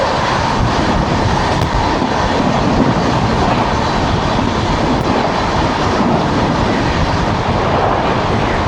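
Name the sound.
12392 Shramjeevi Superfast Express train arriving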